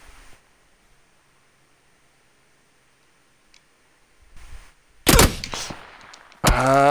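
After a long near-silent stretch, sudden loud bursts of gunfire break out, sharp and close, with a noisy tail between shots.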